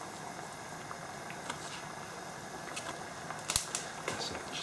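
Paella stock with a pinch of saffron just come to a boil, a quiet steady bubbling hiss with soft pops and a few sharper clinks near the end.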